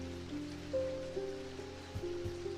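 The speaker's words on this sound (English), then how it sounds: "Well, it's raining today too." Soft, steady rain patters in the video game Strange Antiquities, with gentle sustained musical tones and a few faint knocks layered on top.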